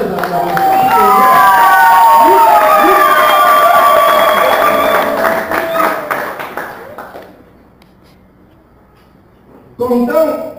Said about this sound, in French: Exprimez cela par les acclamations.